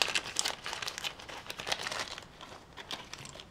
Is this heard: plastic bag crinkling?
yes